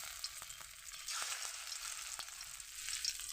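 Cauliflower pakoras fry in hot oil in a karahi, giving a bright, steady crackling sizzle with small pops and bursts as pieces drop in one by one, close and even, with no voices.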